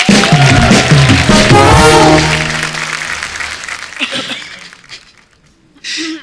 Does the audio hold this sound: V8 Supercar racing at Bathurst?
no